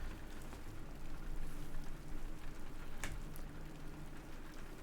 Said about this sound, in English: his attention returned to the sound of the rain once more